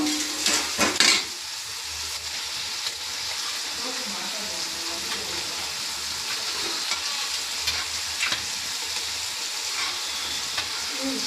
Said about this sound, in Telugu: బాగా కలిపిన తర్వాత ఇప్పుడు టమాటాలు మగ్గాలి.